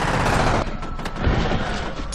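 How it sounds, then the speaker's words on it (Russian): Dense automatic gunfire in the first-person shooter game F.E.A.R., a loud continuous barrage of overlapping shots and booms filling the whole moment with no voices. "Откуда стреляют?"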